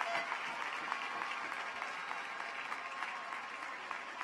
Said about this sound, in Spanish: Que les demos también un aplauso.